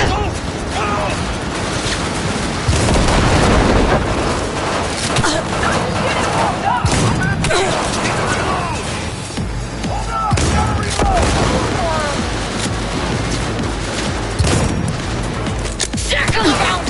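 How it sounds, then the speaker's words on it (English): Grenade blasts and booming gunfire crash repeatedly through a Cyberpunk 2077 firefight, loud and busy throughout, with shouting voices mixed into the chaos. "They got grenades!"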